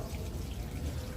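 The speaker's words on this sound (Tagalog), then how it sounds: "malakas din ang bagsak ng tubig" A strong flow of water falls from a tap, a steady close rushing splash with a heavy low rumble and no voices.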